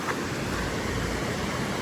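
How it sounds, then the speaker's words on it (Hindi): Fast-flowing river water rushes through Kalam valley in Swat, a dense, steady, close roar of turbulent water throughout with no talking. "और इतना तेज़ पानी"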